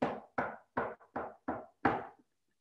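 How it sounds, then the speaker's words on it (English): Six firm knocks on a cottage door, evenly spaced and close, with the last knock slightly louder, followed by silence and no voices. "there came a knock at the cottage door"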